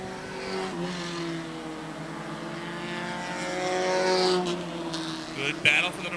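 Race cars battling for position on a racetrack, engines whining in layered harmonic tones that swell as they pass and fade, with commentary voices faintly underneath.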